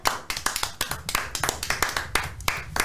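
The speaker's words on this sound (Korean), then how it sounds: "박수!" Rhythmic hand clapping, a steady run of sharp claps close by with no talk over it, from a small group in a studio setting.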